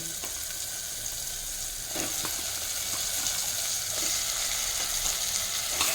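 Chicken pieces dropped into a hot pan over high flame, sizzling and frying loudly and continuously, close up, with occasional stirring scrapes and no voices.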